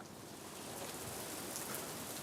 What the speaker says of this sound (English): You're probably going to hear the rain if there's any hail.